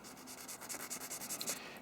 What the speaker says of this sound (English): I will take a sanding stick and just start sanding off that ridge